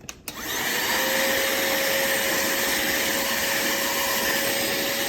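A CODN portable cordless 2-in-1 handheld car vacuum rated at 12000PA switches on with a click and settles into a steady, high whining motor drone that stays loud and even, with no talking.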